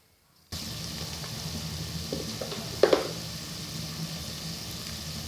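Chopped onions, two of them, go into hot oil and fry with a steady, even sizzle, with a brief louder crackle and stir partway through, and no talk over it.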